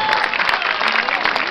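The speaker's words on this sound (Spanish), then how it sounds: "¡Fuerte los aplausos!" A crowd applauds loudly and steadily at a parish celebration during a procession for Our Lady of Reconciliation in La Molina, with faint voices mixed into the dense clapping.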